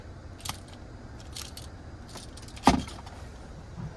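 Keys on a 2023 Toyota Tundra Hybrid Capstone key fob jangle close by in a few short metallic bursts, the loudest clink coming near the end, over a low steady background hum.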